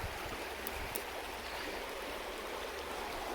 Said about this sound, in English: this river is just pure water coming out from under the Black Mountains